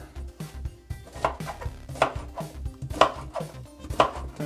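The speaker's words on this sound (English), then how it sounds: "Now we're going to cut into quarters, dice it" Knife chopping and dicing pineapple on a cutting board, a steady run of sharp, close thuds about twice a second with no talk.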